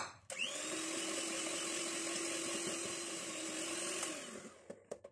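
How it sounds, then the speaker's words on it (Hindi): Electric hand mixer beating eggs with oil and sugar for carrot cake batter, a loud steady whirring drone for about four seconds that winds down, followed by a few taps on the bowl. "दूसरा अंडा डाल के भी इसको मजीद बीट करते हैं"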